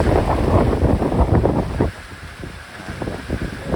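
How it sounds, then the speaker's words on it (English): Strong 20-knot side wind and waves rush past a Dufour 530 sailboat under full sail on a Greek voyage toward Rhodes: loud, close buffeting wind and churning water that eases about halfway through, then builds again. "20 knot side winds, full sails out."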